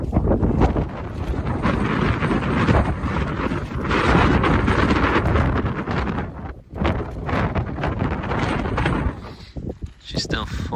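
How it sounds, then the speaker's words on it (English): Strong wind roaring across an exposed mountain summit at sunset, a loud continuous buffeting rush battering the microphone, with a person speaking under the gusts. "the wind is just powering through us"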